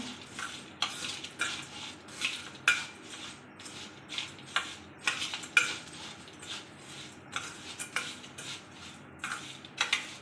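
A spoon stirs masala into fried poha chivda and peanuts in a pan, with repeated scraping and clinking strokes in an irregular rhythm, close and fairly quiet, with no voices.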